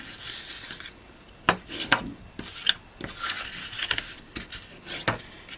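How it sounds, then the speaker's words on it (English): Card paper for a cardmaking project being folded over and burnished down by hand, giving close dry rubbing and scraping strokes in short bursts with brief pauses, no talk. "if I just give these a little bit of a fold over and a burnish down"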